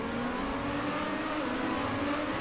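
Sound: race cars accelerating at race start in a video game

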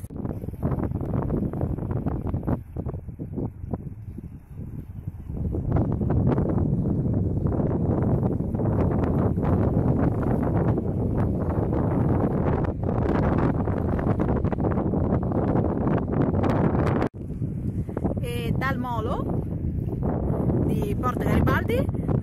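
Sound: strong wind at the seaside blowing on the microphone

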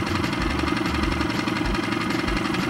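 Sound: boat motor running

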